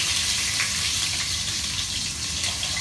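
Onion and garlic dropped into hot oil give a loud, continuous broadband sizzle, close and steady for the whole stretch.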